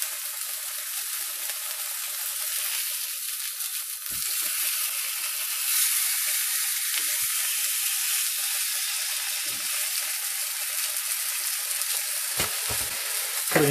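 Burger patties sizzling in warm oil in a pan that is too small, a steady, close hiss of frying with occasional faint clinks and spatters throughout.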